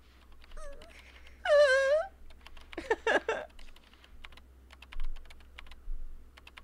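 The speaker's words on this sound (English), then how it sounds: "I speak loudly to try and overtake the sound of fingers hitting keys." Fingers tap steadily on a computer keyboard in a quiet room, with scattered soft clicks interrupted by a loud whining, whimpering cry and a brief burst of busy noise.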